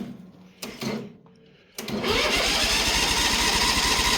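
A Bolens HT-23 lawn tractor engine cranks in short bursts, falls quiet, then catches and runs steadily, loud and close, with a dense continuous rumble through the final seconds.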